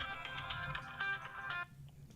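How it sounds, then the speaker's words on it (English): A telephone rings with a buzzy electronic trill that repeats for about a second and a half and then stops, faint, against a low murmur of room noise. "Phone's ringing."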